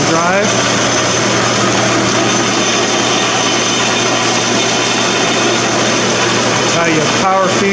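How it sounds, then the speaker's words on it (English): A Logan lathe runs under lead screw power feed, giving a loud, continuous mechanical whir with gear whine, heard close up while someone talks over it. "That should engage the lead screw. That's pretty fast right now."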